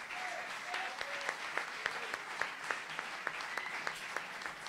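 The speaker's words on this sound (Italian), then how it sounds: "Quindi di nuovo un grazie e un grande applauso." Audience applause at a festival award ceremony in a theatre, steady dense clapping with sharper individual claps standing out, moderately loud throughout without talk.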